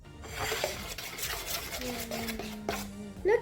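A spoon stirs slime mixed with activator in a bowl, making close, soft, sticky scraping and squelching strokes in an uneven rhythm, with faint clinks against the bowl.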